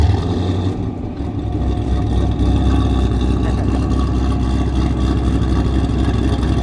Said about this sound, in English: this thing is cam, so let's hear how it sounds